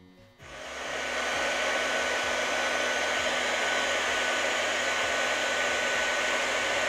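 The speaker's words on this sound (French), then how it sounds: "So you'll have to excuse the sound of the tool. It's a little loud, but it's a fan, it's blowing air, it's going to make a bit of noise." A hot air plastic welding gun set to about 300 °C for making plastic tanks switches on and its fan rises within a second into a loud, steady, close blowing roar that continues alone.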